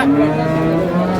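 Cattle low at a busy livestock market in Dinajpur, where dairy cows and calves are sold; a steady, loud, drawn-out moo fills the short span with crowd noise behind it.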